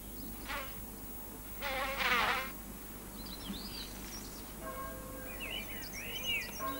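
Bees buzz around flowers in several faint, brief passes that fade in and out over a quiet outdoor background, with a few distant bird chirps late on.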